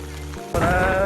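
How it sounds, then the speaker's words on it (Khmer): Rain pours down on a trip in rural Cambodia, a steady broadband hiss that starts abruptly and fills the rest of the moment, loud and close, with an animal-like bleating tone riding over it. "ភ្លៀងហើយ បងប្អូនមកភ្លៀងហើយ"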